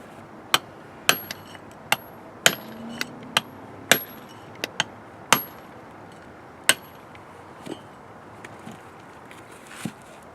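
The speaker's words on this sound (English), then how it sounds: "I'm going to finish this block off with a chisel" Sharp metallic strikes of a 3-pound hammer on a chisel cutting an adobe block, irregularly spaced and close, with quieter taps between and a few ringing hits.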